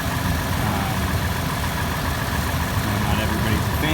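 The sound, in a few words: 2016 Toyota 4Runner engine idling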